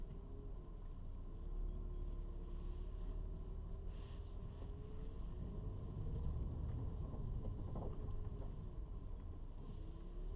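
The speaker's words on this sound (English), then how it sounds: "Out for a lap of the Millbrook Proving Ground" An Infiniti Q50 Eau Rouge prototype driving a lap of the Millbrook Proving Ground, heard from inside as a faint, steady engine and road drone with a rising and falling engine tone and no talk.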